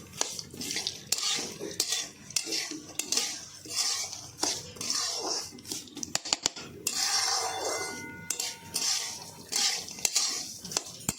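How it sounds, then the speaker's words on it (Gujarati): Sesame seeds and dry fruits being dry-roasted over a medium gas flame, stirred steadily with a utensil scraping and clinking against the pan in repeated strokes, close and clear, with no talking. "આ રીતે તેને આપણે મીડિયમ ગેસ ઉપર જ શેકવાના છે"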